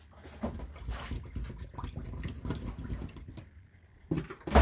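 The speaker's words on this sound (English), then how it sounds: "I had to empty the sink there." Water running and sloshing in a kitchen sink as it is emptied, a steady watery rush with small splashes and clinks, followed by a short pause and a couple of closer knocks at the end.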